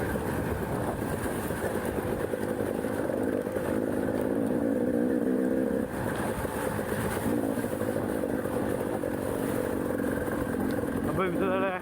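Hard enduro dirt bike ridden over very rough terrain on a first lap, its engine a loud steady drone with rattling and clatter throughout, close up and continuous, with faint voice at times.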